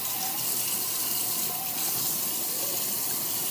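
A kitchen faucet runs steadily under a peeled hard-boiled egg to rinse off bits of shell. The stream is close and constant, a gushing hiss with no pauses or speech.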